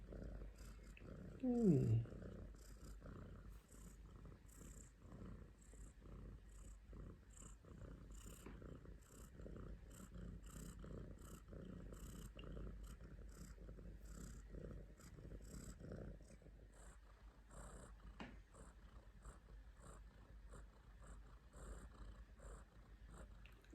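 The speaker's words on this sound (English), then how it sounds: "This little bit is for all you people that have asked about my cat Blue." A house cat purring softly and steadily for a long stretch, a low continuous rumble close by with one brief louder vocal sound near the start.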